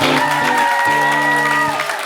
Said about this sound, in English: How about a big round of applause for Marty Remillard?